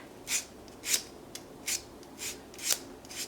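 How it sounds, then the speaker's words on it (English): A buffing block rubs over fingernails during gel prep, blending old builder gel into the natural nail: six short, close, raspy strokes at an uneven rhythm, each a brief scratchy swish, with no talking. "I am just taking a buffing block"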